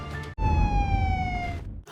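An emergency vehicle siren sounds close and loud, a single long descending wail cutting in sharply over low rumbling traffic noise before breaking off.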